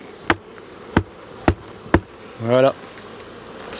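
Four sharp, evenly spaced taps sound near a honey bee hive at the end of the beekeeping season, followed by a single short, close buzz from a bee, and a voice speaks briefly.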